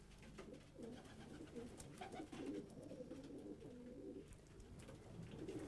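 A pigeon with a broken leg coos softly and repeatedly, a low rolling murmur in steady phrases, faint against a quiet room background.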